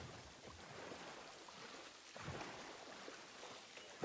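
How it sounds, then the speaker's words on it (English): Rain falling on water in Satisfactory, a soft, even hiss of drops on the surface, faint and continuous with a slight swell midway. "Nice to see the rain on the water as well, the old ripples."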